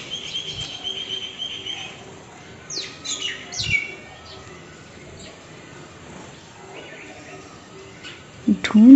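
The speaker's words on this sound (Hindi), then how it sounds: "छोटी छोटी चिड़ियाएं हैं।" Small birds eating scattered rice give faint, quick, high chirps in scattered bursts, with quiet stretches between. A sharper rustle closes the stretch.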